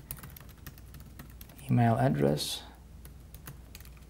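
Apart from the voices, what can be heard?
typing on a computer keyboard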